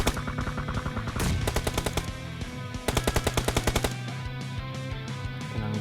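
Rapid machine gun bursts rattle in a video game, several sharp rhythmic volleys of evenly spaced shots over a background game soundtrack.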